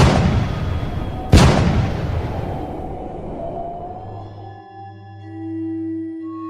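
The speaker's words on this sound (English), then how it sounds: "2 cannon shots can be heard in the distance." A sharp, booming cannon shot rings out once, rolling away into the distance with a long fading echo, followed by low steady tones.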